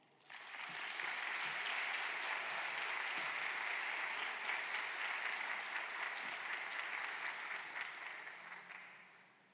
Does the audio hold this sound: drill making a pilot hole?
no